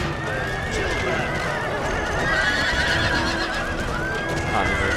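Several horses neigh and whinny in an Empire: Total War battle, with hoofbeats clopping beneath a dense, continuous din of combat; the whinnies rise and fall repeatedly over the steady noise.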